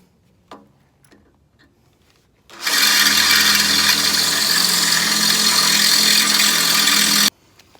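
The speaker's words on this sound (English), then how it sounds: "I'm actually going to drill a couple of holes underneath here" A power drill bores holes into the underside of a lawn mower deck to bolt on a striping kit, a loud, steady grinding whine running about five seconds after a couple of faint knocks.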